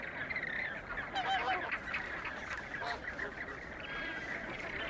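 Flamingos in a large nesting colony on a desert salt pan call in a continuous honking, goose-like chorus, with a few louder nearby calls rising above the steady crowd.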